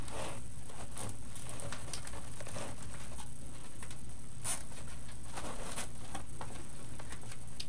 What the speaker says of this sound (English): pull it to the side, pop the zip tie head into the hole, cut your zip tie